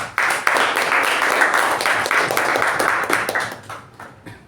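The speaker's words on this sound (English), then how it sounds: "So a round of applause to Toastmaster Aparna." A Toastmasters club meeting audience gives a round of applause. The clapping is dense, continuous and fairly loud for about four seconds, then thins out and fades at the end.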